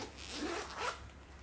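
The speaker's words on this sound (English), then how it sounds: "then you have a zipper" A zipper on a purse's back pocket is pulled open in one short, close rasping stroke, then a second quicker zip, with no talking.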